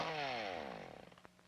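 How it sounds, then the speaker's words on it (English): An old film's chainsaw runs at a high whine, then bogs down and sputters to a stop as it runs out of gas, ending in a few fading coughs. "Let the chainsaw do the work."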